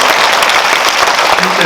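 A cinema audience at a film Q&A in Lotte Cinema World Tower, Seoul, breaks into loud, dense, steady clapping that fills the whole moment.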